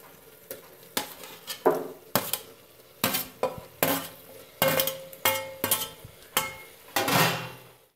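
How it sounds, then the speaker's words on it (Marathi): Repeated clinks of a spoon stirring against a metal cooking pan as tomatoes go in for vegetable pulav, a steady sizzle underneath and about a dozen sharp, evenly spaced scrapes, close and fairly loud with no talk. "आता मी टमाटर टाकून घेत आहे।"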